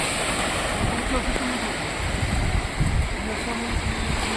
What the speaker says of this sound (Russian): Море волнуется, как обычно.